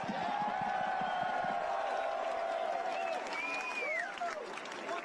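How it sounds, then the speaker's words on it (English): A large political rally crowd in Los Angeles applauds and cheers, a continuous wash of clapping at moderate distance with whistles and shouts rising over it. "Let's give a round of applause"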